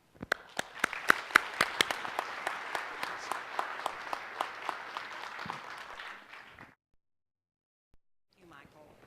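Audience applause welcoming the keynote speaker, a dense burst of clapping with sharp individual claps that builds, holds and then stops abruptly, followed by silence and a faint voice.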